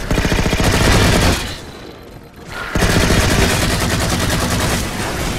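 Sustained automatic gunfire in the Halo 4 co-op campaign, aimed at a ship. Dense, loud rapid fire pauses briefly midway, then resumes at full intensity.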